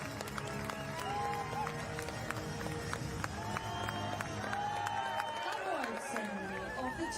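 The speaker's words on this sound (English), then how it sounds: "Big crowd to receive these riders who so enjoyed what was a thrilling finale to an absolutely special race." A big crowd at the finish of the elite women's road race at the 2023 UCI Cycling World Championships cheers and chatters continuously, a steady distant roar with speech mixed in.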